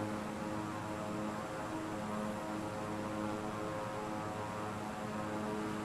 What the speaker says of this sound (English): we're going to put down the landing gear